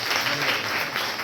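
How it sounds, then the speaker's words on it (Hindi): Students and onlookers at a government school science exhibition give a brief, lively burst of clapping, dense and close, lasting only a moment. "जोरदार तालियां"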